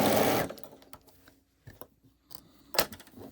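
A home sewing machine stitches a seam on a quilt block in a short loud opening burst, followed by quieter intermittent whirring and a brief final run, with no talking.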